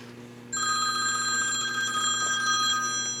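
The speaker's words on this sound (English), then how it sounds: "Alright, totally unrelated phone call." A telephone rings in a machinist's workshop during lathe work, breaking in abruptly after a quiet half-second with a steady, bright electronic trill that carries on loudly to the end, with no talk.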